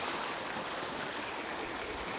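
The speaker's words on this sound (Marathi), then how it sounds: "इथं बघा फुल किती प्रेशर आहे, खूप पाणी पळते" Steady, forceful rush of water at full pressure through a farm irrigation channel, a dense continuous wash with no pauses, close by and fairly loud.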